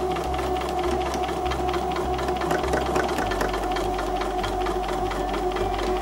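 Sewing machine joining pinned quilt block fabric pieces with a quarter-inch seam, a steady close hum of rapid needle strokes running continuously without talk.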